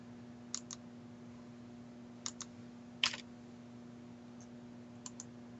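A file name typed on a computer keyboard: sparse, crisp key clicks in small pairs and clusters spread across a quiet room, with a steady low electrical hum beneath and no voices.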